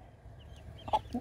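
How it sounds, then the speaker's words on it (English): A couple of backyard chickens cluck nearby, two short throaty clucks near the end over a low background hum, with no talking. "this is hanging out with Wags and a couple chickens"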